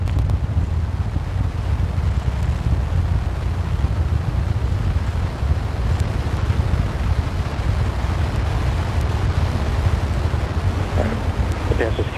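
NASA SLS core stage rocket engines during a hot fire test, a continuous deep roar with a heavy low rumble that holds steady and loud throughout, no clear talking over it.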